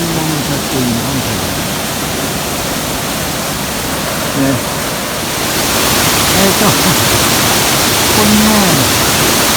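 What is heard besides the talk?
Nyumon waterfall rushing water at Jakuchi gorge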